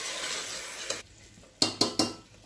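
Chicken and tomato are stirred in a pressure cooker for biryani: sizzling fades under a few scraping strokes, then three sharp clinks of a metal spoon against the pot.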